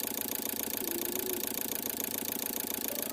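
Kia Picanto engine idling steadily at close range during ECU servicing, with an even mechanical hum and a faint rhythmic ticking pulse throughout, no talking.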